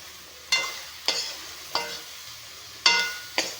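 Pointed gourd, ridge gourd and bitter gourd frying in a pan, heard as a quiet background sizzle broken by about five sharp spatula scrapes and stirs at irregular intervals, with no talking.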